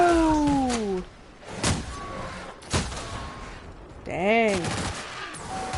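Gunfire from a low-capacity, hard-hitting gun in the video game The Outer Worlds, a few sharp loud shots spaced apart amid game effects, with someone speaking briefly.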